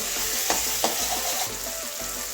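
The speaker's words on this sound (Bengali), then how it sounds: "মশলার সঙ্গে মাছের মশলাটাও কষিয়ে নেব দু মিনিট কষাবো" Spices and fish masala sauté in a pan, giving a loud, continuous close sizzle with a couple of sharp stirring knocks and no voices.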